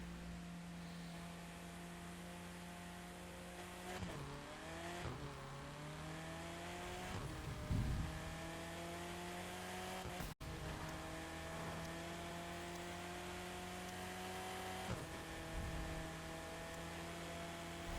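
A car driven in the racing video game The Crew 2 on an empty road: a steady engine drone rises and drops with several gear changes, fairly quiet, with no talking.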